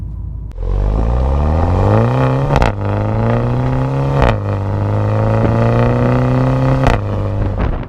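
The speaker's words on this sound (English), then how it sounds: "So you get the exhaust without the pumping of the speakers." A BMW X2 in sport gearbox mode, with an Aisin 8-speed automatic, accelerates hard with a loud, close exhaust note that climbs in pitch through each gear, with several quick upshifts cutting in between the rising pulls.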